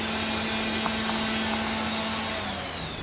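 Pallet wood being resanded with 120 grit sandpaper by a power sander, a steady close whirring buzz with a faint hum that eases off toward the end.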